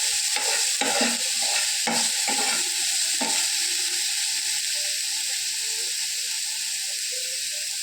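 Beetroot sautéing in a hot pan for vada, with a steady loud sizzle throughout and a few scraping stirs early on.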